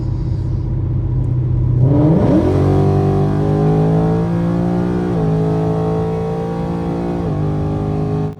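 A supercharged 2019 Ford Mustang GT launches at full throttle with traction control off, its engine rumble surging into a loud rising roar that climbs steadily through several gear shifts, heard close from inside the car.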